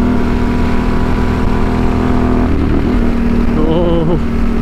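A Yamaha Tenere 700 motorcycle rides at steady speed, its engine droning loud and close with a constant whine and rushing wind, and the rider speaks briefly near the end.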